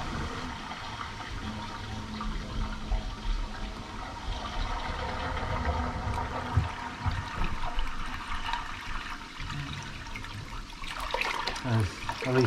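Several toilet flushes rush as water through a clogged drain pipe outside a house, a steady broadband flowing wash lasting throughout with a louder surge near the end.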